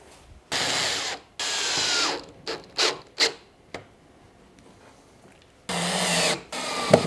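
Ratcheting and mechanical clicks from fasteners being screwed into a battery relocation mount on a KE70, coming in several loud bursts with short isolated clicks between them, close by with no talk.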